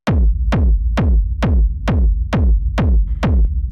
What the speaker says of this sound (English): So this is honestly a pretty standard rumble kick.